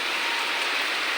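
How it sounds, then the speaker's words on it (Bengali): Heavy rain pours down steadily outside a lodge, a dense, even hiss of falling water that stays loud and unbroken throughout, with no voices. "দেখো, আমাদের এখানে খুব বৃষ্টি হচ্ছে মুষলধারে।"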